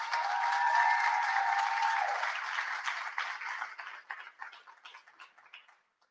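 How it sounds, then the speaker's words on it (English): Fairly faint audience applause at a student competition event, a steady wash of clapping with a sustained tone underneath early on, thinning into scattered individual claps before dying out. "Come on, let's clap them on."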